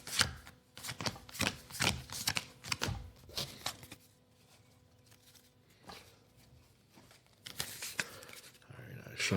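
Cards for the Earthborne Rangers board game being shuffled by hand at a table: a quick run of crisp, close riffling bursts, a quieter stretch with faint handling, then one more brisk shuffle near the end.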